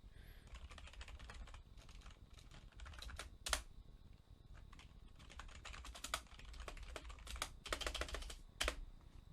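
Quick bursts of clicking keystrokes as a password is typed on a computer keyboard, fairly faint and close, with short pauses between runs of keys and no voices.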